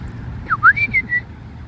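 A few short whistled notes rising and falling in quick succession, calling dogs at a dog park, moderately loud over a low background rumble.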